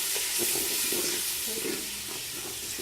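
Potatoes, peas and carrots fry in a pan for pulao with a constant loud hiss of sizzling oil and faint stirring taps underneath, close and continuous.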